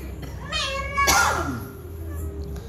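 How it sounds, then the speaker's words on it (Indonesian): A greedy tiger-striped cat lets out one loud, close, drawn-out meow that rises and then falls away, with faint background noise after it. "ini si tiger cat tipe kucing yang rakus guys"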